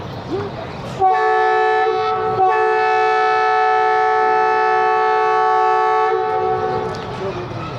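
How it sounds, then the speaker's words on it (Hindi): The 9 Up Allama Iqbal Express sounds a loud, sustained horn blast lasting several seconds as it departs Shahdara Bagh Junction, with rumbling rail noise around it. "मुख्तसर सा स्टॉप किया है शादरा बाग जंक्शन पे और रवाना होने लगी है।"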